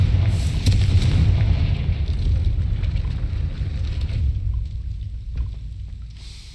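A Confringo blasting spell goes off in Hogwarts Legacy, a heavy rumbling boom that swells and rolls on for several seconds before fading, with a short sharp crack near the end.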